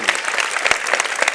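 A university convocation audience claps for an honoured professor, a dense, even patter of many hands filling the hall throughout the short burst.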